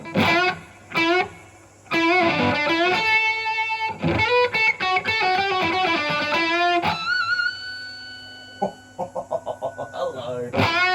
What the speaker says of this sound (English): extra blat of reverb.